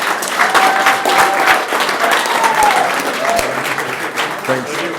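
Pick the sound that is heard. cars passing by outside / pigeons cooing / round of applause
round of applause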